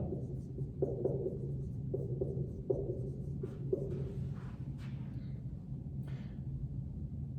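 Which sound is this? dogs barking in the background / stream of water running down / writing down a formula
writing down a formula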